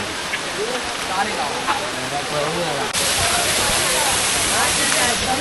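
A rain-fed waterfall tumbles over rocks in a steady, broadband roar close by, growing noticeably louder partway through, with voices faintly audible beneath the rush.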